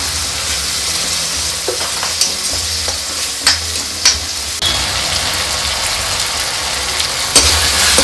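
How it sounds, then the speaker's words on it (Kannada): Tomato frying in a pan for chicken liver fry, a loud steady sizzle with occasional spatula scrapes and clicks against the pan, close and alone. "ಟೊಮೆಟೊ ನೀಟಾಗಿ ಫ್ರೈ ಆಗಿದೆ."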